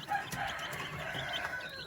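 Six young chicks and hens cluck and peep in a brief, busy mix of soft calls close by, with a high chick cheep rising near the end.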